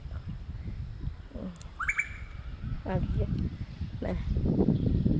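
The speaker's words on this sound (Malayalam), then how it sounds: "കിളി ഇവിടെ ഇവിടെ ചെലച്ചു" Several short bird chirps and calls ring out at sunrise over a busy, noisy background with a person talking nearby.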